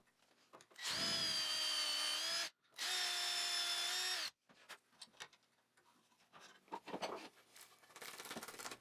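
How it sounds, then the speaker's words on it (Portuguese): A power drill bores mortises in wood for a table's legs, in two sustained loud whining bursts separated by a brief pause, followed by quieter clattering handling sounds in a workshop. "Então continuei, furei todas as mortalhas e cortei as espigas para as pernas"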